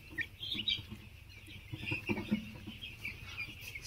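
Chickens on a poultry farm housing about 2,000 birds cluck and chatter continuously, with several hens calling at once close by over steady farm background noise.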